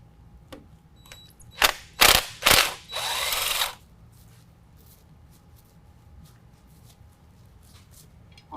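A ratchet with a 10 mm socket working an actuator bolt on a 2019 GMC Sierra 1500 during a lift kit install: a few quick clicks, then short loud bursts of ratcheting, and quiet afterward.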